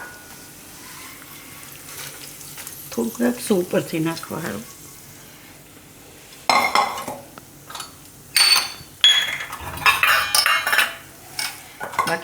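Cooled soaked sabudana tipped into a hot oil and cumin tempering and stirred: someone speaks first, then spoon clatters and scrapes against the pan come in irregular bursts with a light sizzle.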